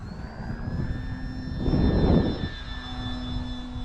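RC model fixed-wing airplane flying over a runway, its engine whine steady and fairly close, swelling louder as it passes nearby around the middle and then easing back, with no talking.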